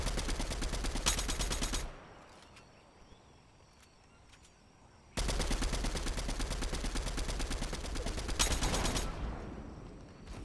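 Rapid automatic gunfire in Fortnite, shooting down a slowly descending supply drop: two long sustained bursts of fast, evenly spaced shots, loud and close, separated by a quieter pause.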